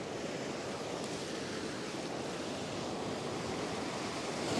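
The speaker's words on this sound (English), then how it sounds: "there's a couple of waves coming out the back" Surf breaking against a rocky headland during rock fishing, a steady roar of wash and spray with constant wind noise on the microphone, rising slightly at the end; no talk.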